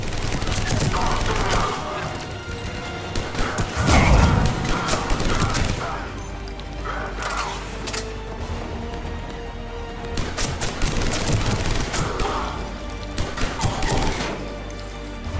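Gunfire and combat in the video game Mass Effect 3, dense bursts of shots and crashing impacts rolling on and off over a continuous game soundscape, with some clipped radio-style game voices.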